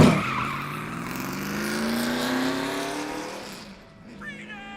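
An animated race car peels away, tires squealing in a long skid under a revving engine that fades as it speeds off, ending in a brief high screech.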